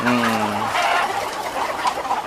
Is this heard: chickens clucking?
yes